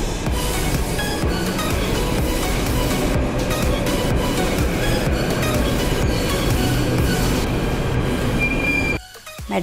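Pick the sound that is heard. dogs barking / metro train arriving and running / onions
metro train arriving and running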